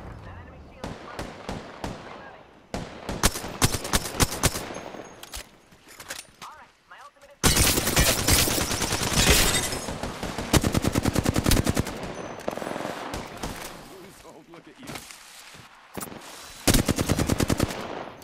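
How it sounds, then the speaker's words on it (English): Rapid bursts of automatic gunfire from the video game Apex Legends, loud and near, with stuttering volleys and single shots over about eighteen seconds, a few brief pauses between exchanges, and talk from players mixed underneath. "People shooting at us from right here."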